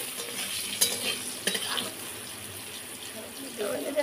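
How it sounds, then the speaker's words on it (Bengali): Ivy gourd fries in a pan with a close, steady sizzle, and a utensil scrapes and knocks a few times as the pieces are stirred. "এদিকে কুঁদরোই ভাজাটা হয়ে গেলে আবার আমি কাঁকরোলটা ভেজে নেব।"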